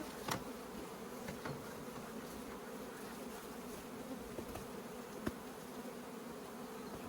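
Honeybees from a swarm hum steadily around hive frames, a dense, even drone that carries on without a break through the whole clip, with a few faint knocks, at moderate distance and fairly quiet.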